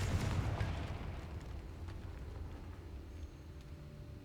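Blasting curse from Hogwarts Legacy goes off with a loud low boom at the start, then a rumbling wash that slowly fades while the sound stays fairly dense.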